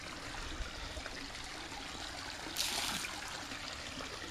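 About eight ounces of CV700 enzyme phosphate remover poured into a swimming pool, a soft, steady liquid trickle against outdoor background noise, with a slightly stronger splash near the end.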